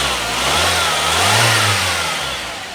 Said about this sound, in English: Just to show you that the engine is actually running.